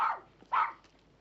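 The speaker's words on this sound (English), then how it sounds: "If they're disturbed by all this barking, you'll stop that dog's noise or I'll send for the police." A dog gives two sharp barks in a quiet indoor room, the second one louder, with a short gap between them.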